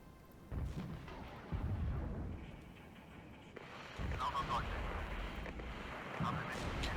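Artillery and gunfire rumble through a battle in the strategy game Regiments, with tanks taking fire from warehouses; low booms and bursts sound steady and moderately loud beneath someone talking.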